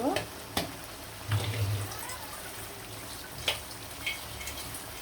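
Radish and hilsa fish fry in a pan while being stirred, a soft continuous sizzle broken by a few scraping stirs and light clinks, fairly quiet and close.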